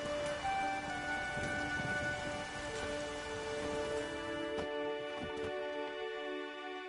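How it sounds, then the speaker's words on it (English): Steady rain pours in The Witcher 3 game, a dense close hiss of drops falling on surfaces, with sustained musical tones running underneath and no talk. "There's no point standing here in the rain."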